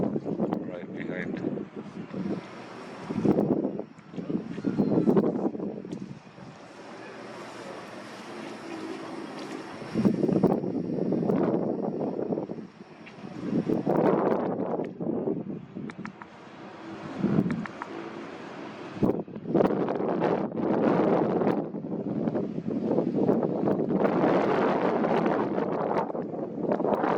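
Strong gusting wind buffets the microphone on top of the Rock of Gibraltar, roaring in uneven surges that rise and fall throughout, with a voice speaking intermittently beneath the blustery noise.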